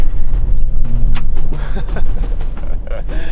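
Ford F-150 Raptor pickup truck driving off road, a loud, close engine roar with rough rumbling and bumping, a voice briefly audible over the noise.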